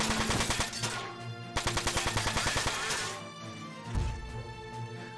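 A rapid-fire mech weapon blasts in the video game Front Mission 4, loud fast rhythmic bursts of repeated shots in two long volleys, followed by a heavy impact.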